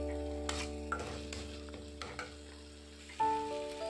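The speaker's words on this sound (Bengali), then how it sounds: "এবার ভালো করে মশলাটাকে নেড়েচেড়ে কষিয়ে নেব" Spice masala is stirred and fried in oil in a pan for an egg curry, with potatoes to follow, giving a soft continuous sizzle and several distinct spatula scrapes and taps against the pan, close by.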